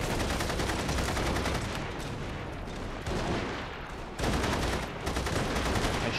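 Loud, continuous gunshots and rapid automatic fire in The Saboteur, packed into a dense barrage with only brief shifts in intensity and no clear gaps between shots.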